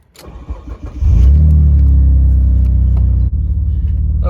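A 1999 Mitsubishi VR4 engine catches and settles into a loud, steady close-up idle while warming up, with a low rumbling drone and one brief dip in revs.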